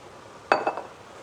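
Vegetables for a homemade ragu are tipped into a pot with a quick clatter of a few metallic and ceramic clinks, close and brief, against quiet.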